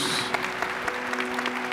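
A church congregation claps together during Mass, producing a brief, dense and steady patter of applause.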